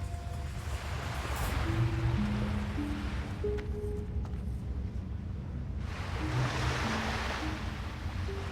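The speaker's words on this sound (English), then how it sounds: "Let's get into the water so we can stop listening to how loud those waves" Ocean waves crashing on the coast in World of Warcraft: a loud, continuous surf roar swelling and receding in broad surges, with faint tonal game notes over it and no talk.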